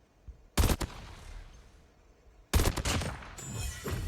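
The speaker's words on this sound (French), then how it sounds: "autre petit détail, c'est l'impact de la balle" Video game gunfire with bullet impacts: two loud, sharp bursts of closely spaced shots, the first brief and the second longer with a ringing tail, separated by near-silence.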